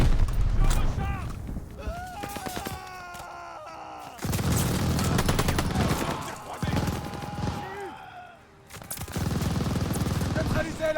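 Gunfire in a Call of Duty Vanguard campaign battle, bursts of shots mixed with shouting soldiers, groans and whistling effects, loud and chaotic with brief lulls.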